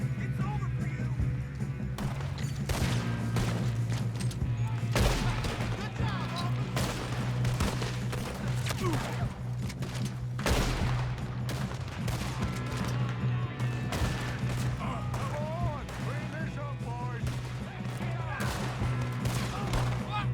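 Gunfire in the video game Red Dead Redemption 2 rattles continuously, with rapid overlapping shots and heavy booms forming a loud, dense barrage over a steady low soundtrack hum, with voices mixed in.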